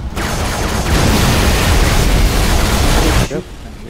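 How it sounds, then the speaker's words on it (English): A sustained, roaring explosion rumbles on for over three seconds in Halo 3 co-op on Legendary, a loud broadband blast that cuts off sharply near the end, with a player talking over it. "That was that explosion is still going."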